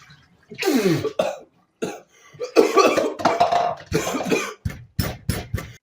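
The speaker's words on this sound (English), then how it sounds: "We got puke on camera, yes!" A person vomits after chugging a drink, with a series of harsh, close retching and gagging bursts separated by short pauses.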